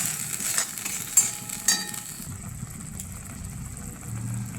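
Masala spice paste fries in a pan, giving a steady, close sizzle with faint scraping and stirring, a few brief clatters early on, then a quieter, lower hiss.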